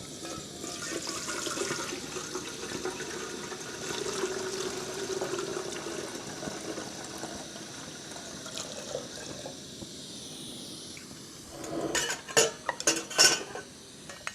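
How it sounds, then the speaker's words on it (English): Water runs steadily into a coffee pot on a Coleman 533 dual-fuel camp stove for several seconds, followed by a few sharp clinks and knocks of kitchenware near the end. "I'm gonna add some water into our coffee pot."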